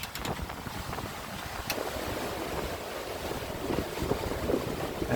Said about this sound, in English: And we've got 20 knots of breeze-ish.